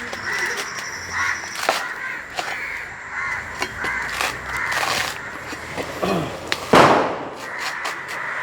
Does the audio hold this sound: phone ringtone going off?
no